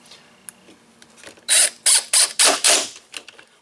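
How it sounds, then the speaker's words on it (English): A power driver sinks a pocket screw into the brace of a speaker cabinet under assembly, giving four short, loud ratcheting whirrs in quick succession after a few quiet handling knocks, close up with no talking. "it only has one pocket screw that goes into the brace"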